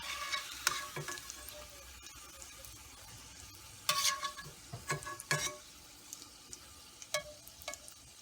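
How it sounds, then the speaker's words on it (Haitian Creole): Quiet sizzling of hot dogs frying in oil in a pan, broken by bursts of stirring and clinks of utensils against the pot. "On va mettre hot dog yo frit."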